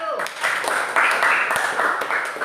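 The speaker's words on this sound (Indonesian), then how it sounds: "Tepuk tangan dulu untuk kelompok 1." A classroom of students claps for a group, giving brief scattered applause that rises under a teacher's speaking voice nearby.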